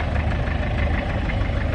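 A vintage four-cylinder diesel tractor, an International B275, idles steadily nearby with a dense, continuous rumble and a slight knock, sustained throughout at a vintage steam rally.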